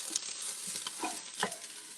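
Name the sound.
onions frying in a pan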